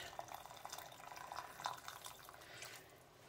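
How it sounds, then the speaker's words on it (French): Boiling water pours into a pot of chorba soup, a faint, steady watery rush with a few soft splashes and drips, quiet and without speech. "Je vais ajouter encore de l'eau bouillante."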